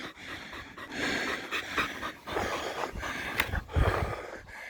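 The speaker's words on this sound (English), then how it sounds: "Well, we got a dog heat stroking." Rapid, heavy panting from a dog suffering heat stroke outdoors, a continuous breathy rasp close to the microphone with occasional snorts and no talking.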